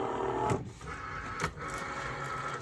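A craft cutting machine loads a sheet of material, ink side up, for a holiday wine bottle label and bag: a steady mechanical whir with two short feed clunks about a second apart, running alone.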